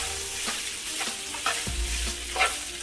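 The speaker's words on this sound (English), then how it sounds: "So now I'm gonna stir it." Al dente pasta being stirred in a frying pan, with a steady close sizzle and a few rhythmic scraping strokes of a utensil against the pan, soft and alone.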